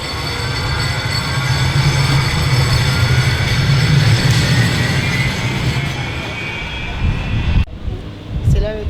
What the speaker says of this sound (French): Le tramway, le métro portugais.